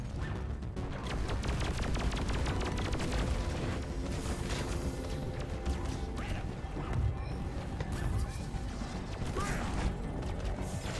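A phase bomb explosion in Deep Rock Galactic bursts amid dense, continuous game combat, with loud crashing impacts and rattling mechanical noise layered throughout without a clear single isolated blast.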